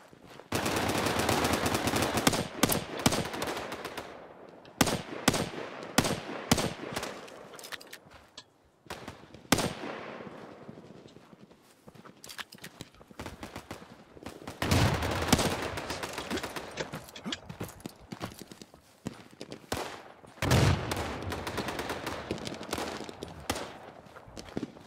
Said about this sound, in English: Shotgun sounds really, really good.